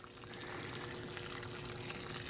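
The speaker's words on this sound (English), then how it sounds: "there's water coming out of it" Water pours steadily from a Black and Decker pool cover pump draining a 24-foot above-ground pool, a continuous close splashing stream with no talk.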